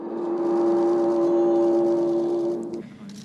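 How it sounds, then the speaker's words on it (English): Bells of the clock tower at Pyongyang railway station ring a steady sustained tone that hangs and slowly fades, with faint background noise before it cuts off near the end. "That's the sound of the clock tower at the Pyongyang railway station"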